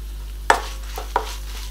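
Dried red chillies frying in hot oil for a drumstick leaf poriyal, a soft steady sizzle with two sharp close pops or clicks of a spoon against the pan, no talking.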